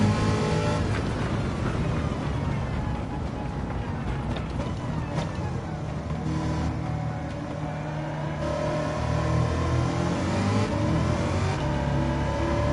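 A Mazda MX-5 ND with a swapped engine is driven in the racing game Gran Turismo 7. The engine holds a steady, loud drone with rising revs and shifts throughout, and no one talks.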